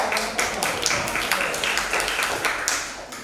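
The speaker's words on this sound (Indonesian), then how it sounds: "Tepuk tangan untuk kelompok satu." A classroom group claps for the first team after presenting macro photography work, a dense run of mid-level hand claps from several people, fairly close and steady for a few seconds.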